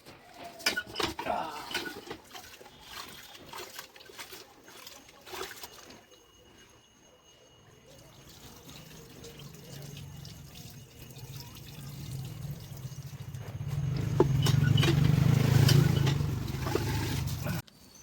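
Rice is washed in water in a pot, with clinking metal, stirring and pouring water, the sloshing growing louder toward the end, and some talk in the background.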